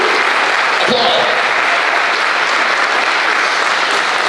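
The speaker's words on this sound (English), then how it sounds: "could we give you a round of applause if we have any administrators or teachers here tonight?" Loud, close audience applause at a school district spring band concert, a dense and unbroken roar of clapping throughout, with a brief voice near the beginning.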